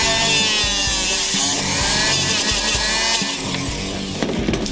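Power tool smoothing and rounding the top of a bowling ball's thumb hole, giving a steady loud grinding whir with small fluctuations in pitch and pressure, close and continuous, no talking.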